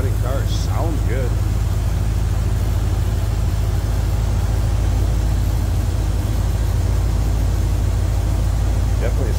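A 1975 Chevrolet Corvette convertible with a 350 V8 and headers idles smoothly in a steady, loud low rumble heard up close, while someone talks briefly over it.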